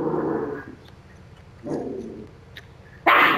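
A pet dog barking at play indoors, a few separate loud, bursty barks and yelps at irregular intervals, near and vocal, with quieter stretches between them.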